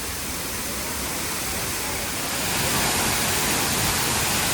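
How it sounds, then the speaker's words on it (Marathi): Dhangar waterfall near Badlapur, water tumbling off a Matheran-range hillside beside Bhoj dam, roaring as a steady broadband rush that swells slightly louder partway through, with no voices. "थेट डोंगरातून येथे खळखळ वाहणारं पाणी मनाला शांतता देते."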